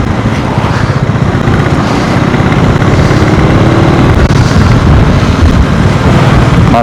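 Motorcycle and vehicle engines rumble steadily on a mountain road toward Manali, heavy wind buffeting the microphone throughout, with a loud continuous drone and no clear individual pass-bys.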